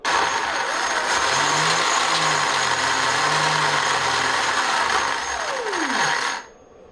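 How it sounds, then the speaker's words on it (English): An Arrma Limitless GT RC car's electric motor whines steadily at close range, with a couple of brief throttle swells, then winds down in a falling pitch before cutting off near the end. "Gotta love that uncensored motor"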